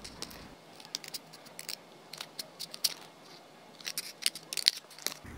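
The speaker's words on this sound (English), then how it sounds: "use the dots as a guide to cut out the peaks of the crown" Scissors snip through a cardboard roll to cut out crown peaks, a series of close, quiet, crisp clicks and cuts in uneven bursts over near silence.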